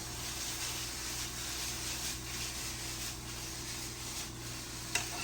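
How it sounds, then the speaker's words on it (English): Onions for Shin Ramen sizzle quietly in a pan in a hotel room, a soft, even frying hiss with light stirring scrapes and a small clink near the end. "there's nothing better than the smell of onions cooking"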